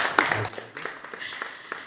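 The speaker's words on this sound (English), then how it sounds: "Let's give him a round of applause." An audience applauding in a hall at a camera combat event, a brief burst of clapping that quickly thins to a few scattered claps.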